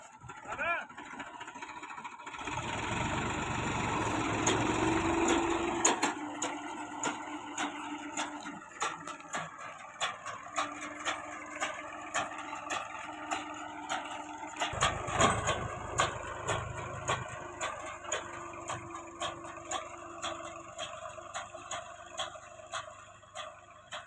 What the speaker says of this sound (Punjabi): ਦਿਖਾਉਣੇ ਆਪਣਾ ਟਰੈਕਟਰ ਜਿਹੜਾ ਮੂੰਗੀ ਬੀਜ ਰਿਹਾ ਹੈਗਾ